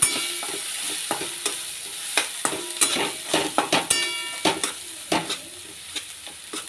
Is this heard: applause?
no